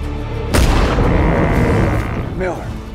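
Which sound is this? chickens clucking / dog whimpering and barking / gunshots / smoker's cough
gunshots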